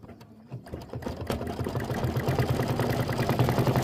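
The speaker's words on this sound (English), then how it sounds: "I'm going to put the foot down and I'm going to let it do the decorative stitching" A sewing machine with its presser foot lowered runs steadily through decorative stitching on a mini quilt block, its rapid rhythmic needle clatter building after a brief start and continuing close and loud without any talk.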